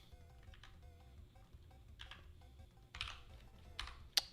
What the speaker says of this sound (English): keep hitting the wrong keys